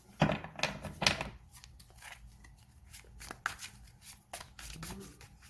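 Tarot cards are handled during a pick-a-card reading, giving soft close shuffling and flicking sounds with a few sharper snaps near the start, quiet throughout and with no speech.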